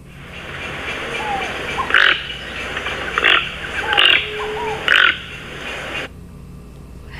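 Four harsh, croaking bird calls ring out at roughly one-second intervals over a steady background hum.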